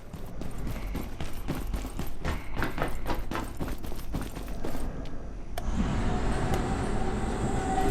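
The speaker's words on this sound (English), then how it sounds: "We'll take the tram." Tram ride in the video game Abiotic Factor: a run of rhythmic rail clacks and rumbling, then a shift to a smoother, louder mechanical hum as the car moves on, with no voices.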